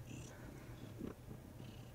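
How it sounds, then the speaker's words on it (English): A cat purrs continuously while it eats, the low steady rumble mixed with soft chewing close to the listener. No one speaks. "You just gonna purr and eat?"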